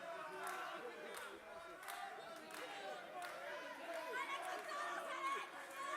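Arena crowd at a women's boxing title bout between Orozco and Torres, with steady chatter, shouts and cries from a limited-capacity audience, loud and continuous throughout.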